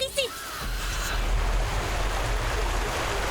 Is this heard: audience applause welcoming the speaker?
no